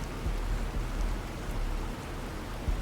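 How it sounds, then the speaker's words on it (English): Soft, even rain hiss in the video game Planet Crafter, a steady wash of quiet falling rain with no other sound. "now it starts to rain."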